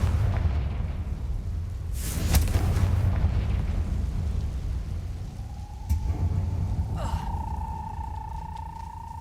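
A Confringo blasting spell goes off in the Hogwarts Legacy video game, giving a broad rumbling blast with a sharp crack near the middle, followed by fainter impacts and a rising magical tone.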